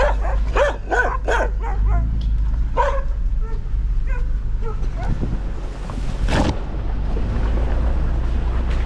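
Several dogs bark and yip in quick, loud bursts at close range, then scattered whimpers and barks over a steady low rumble at an overland camping trip in the Ozarks.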